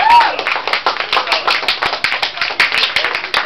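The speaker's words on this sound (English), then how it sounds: "Big round of applause." A fifth-grade classroom audience gives a big round of applause after a student's biography report, with dense, rapid hand clapping from a small group sustained for several seconds, close and fairly loud.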